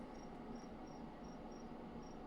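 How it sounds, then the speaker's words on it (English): Crickets chirp in quick repeating pulses over a soft, steady night hum, fairly faint and with no one talking. "These crickets are so loud."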